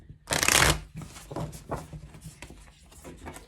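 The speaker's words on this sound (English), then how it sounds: "I'm just going to give these one shuffle so we can draw a card" A deck of tarot cards is shuffled in one loud riffle burst, followed by softer tapping and sliding of cards, close up with no talking.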